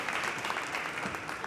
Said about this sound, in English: Let's give a big round of applause for all these sponsors and thank them for a wonderful event tonight.